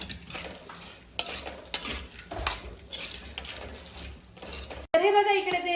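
Chopped cashews and almonds dry-roasting in a pan for methi ladoo, stirred with a spoon that scrapes and clinks steadily against the metal for about five seconds, then a brief break and a different clatter.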